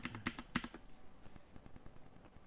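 Computer keyboard typing, a brisk flurry of close key clicks at the start that thins into quieter, scattered taps; no voices.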